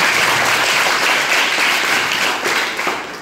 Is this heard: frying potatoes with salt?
no